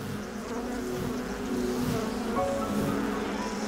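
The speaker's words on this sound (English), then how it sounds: "There are thousands of bees in there." A dense, steady drone of thousands of honeybees buzzing at an open hive close by in the Gaza Valley, unbroken and moderately loud throughout, with no voices.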